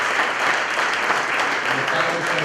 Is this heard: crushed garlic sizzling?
no